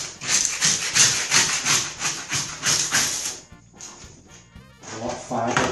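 Old wallpaper dry-stripped from an aged ceiling with a scraper, giving repeated rasping, rubbing scrapes in a steady rhythm, close and fairly loud, with a short quieter pause before the scraping resumes.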